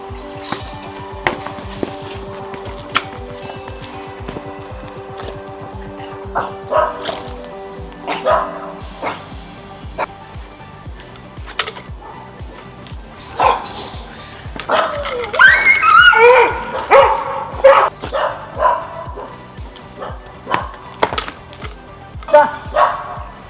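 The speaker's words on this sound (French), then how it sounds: "Donc test d'évaluation numéro 1 sur cette chienne Rottweiler qui s'appelle Maya et qui est âgée de 4 ans." A female Rottweiler aged four barks repeatedly during a behaviour evaluation test, with sharp close barks, some yips and whimpers, amid ongoing talk and scattered clinks.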